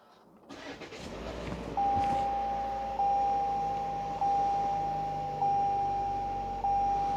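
The 2.0 engine of a 2019 Toyota C-HR cranks and catches, then settles into a quiet steady idle. A continuous warning tone sounds over it, pulsing in a regular rhythm.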